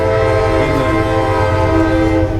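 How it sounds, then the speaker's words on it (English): A loud train horn blares steadily and continuously for a couple of seconds close by, with the rumble of rail cars passing beneath it, interrupting a city council meeting in Newport, Tennessee. "What a time for the train"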